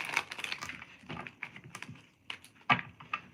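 A deck of playing cards being shuffled by hand, with quick papery riffles, flicks and taps in irregular bursts, close and fairly soft.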